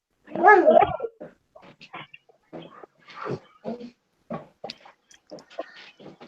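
A pet dog plays with a plush kangaroo toy, making close, irregular snuffling grunts and soft whimpery noises in short bursts separated by brief pauses.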